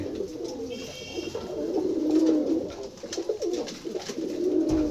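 Desi Rajgola pigeons at Kalampur, Dhamrai, Dhaka, cooing close by in a steady, overlapping throaty murmur that swells and dips, with faint higher chirps now and then.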